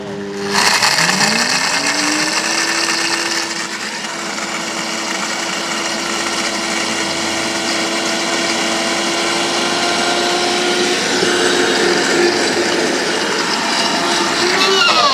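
Electric grinder whirring through spice seeds, a loud, steady motor whine that rises in pitch as it starts and then holds for several seconds, close up with no talk.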